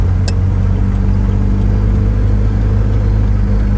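An Austin-Healey Bugeye Sprite, running low on fuel, drives along with a loud, steady engine drone and deep rumble close up, holding an even note the whole time.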